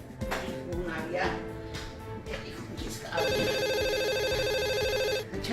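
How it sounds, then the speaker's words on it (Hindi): An electronic telephone ringtone warbles steadily in a household, starting partway through and cutting off near the end, while a voice and domestic bustle sound beforehand. "फोन आ गया।"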